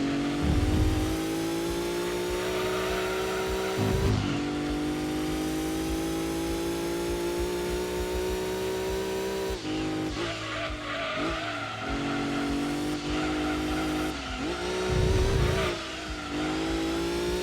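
Race car engine in Gran Turismo 2 screaming at high revs during the Wagon Cup, tires squealing through a controlled drift, with pitch drops at gear shifts and repeated short squeals near the end.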